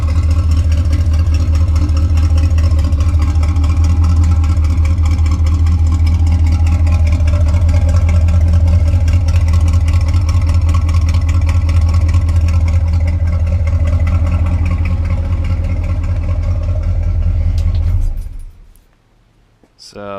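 A Ford F100 truck engine idles rough just after a cold start, a loud, close, steady low rumble with uneven lope for about eighteen seconds before it cuts off abruptly.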